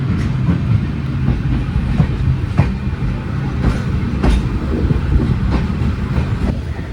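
An Ernakulam–Velankanni Express running on LHB coaches rumbles steadily along the track, with dense low-pitched noise throughout and regular clickety-clack wheel beats over rail joints, heard close and loud from on board.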